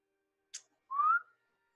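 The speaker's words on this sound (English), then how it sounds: "you whistle like that, and I will hear you" A person whistles a short signal: a brief high chirp, then a longer rising whistle tone, alone against near silence.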